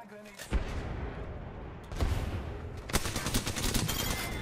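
A frag grenade from the Apex Legends game blasts with a loud, broadband explosive burst, followed by further booming impacts and gunfire-like crackle in the ongoing combat.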